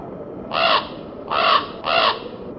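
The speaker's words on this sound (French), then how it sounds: "Le corbeau se posa sur une tombe, tout près de moi, et chanta un air morbide." A crow caws three times, each call a harsh, drawn-out croak with short gaps between, close and loud over a faint background hiss.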